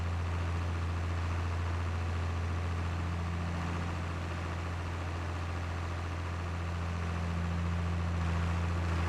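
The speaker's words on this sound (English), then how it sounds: "It's hard to keep the tractor straight." Farming Simulator 22 tractor driving over a bumpy, rough field, a steady low engine drone with a constant hum throughout, no speech.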